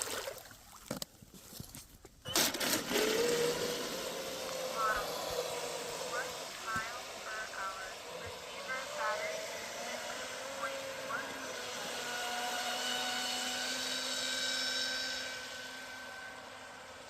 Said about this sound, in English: Such a smooth running prop.